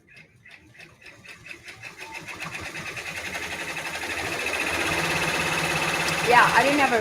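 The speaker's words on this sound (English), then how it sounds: "That's what it's stitching right now." A multi-needle embroidery machine stitches a Kimberbell Dog Mom/Dad mug rug, its rapid rhythmic whirring starting soft and building to a steady, louder hum, with voices talking over it.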